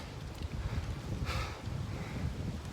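Soft, constant wind noise rumbles against the microphone outdoors at 9.5 degrees after rain, fairly faint, with a brief gusty hiss near the middle.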